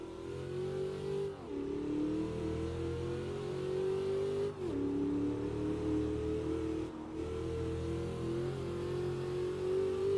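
A car engine revs hard while drifting, a loud sustained engine drone whose pitch climbs and drops in three or four surging cycles with brief dips between shifts, no talking.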